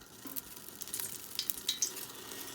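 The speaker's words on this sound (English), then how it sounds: "we're getting ready to saute the" Onions, garlic and mushrooms sizzle and sputter together in a hot pan for fresh spaghetti sauce, a steady close frying hiss with brief crackling pops and the light scrape of stirring.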